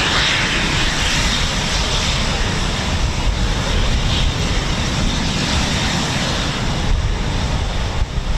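A Eurofighter Typhoon FGR4 jet flies at RAF Coningsby during an evening show, its engines giving a loud, steady, broadband roar that fills the whole stretch without a break.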